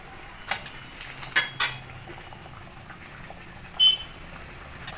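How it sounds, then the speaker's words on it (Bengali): Prawn malai curry gravy simmering in a pot, a quiet bubbling under a few sharp metallic clinks of utensils against the pan, no talking. "মালাইকারির গ্রেভি ফুটে গেছে, ওই মাছগুলো দিয়ে দেবো।"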